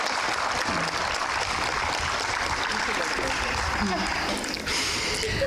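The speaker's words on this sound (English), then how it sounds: "So another round of applause, please, for Lisa." Applause for award recipient Lisa Geyer at a staff recognition awards ceremony, a steady wash of clapping from a crowd, with a voice faintly present beneath it.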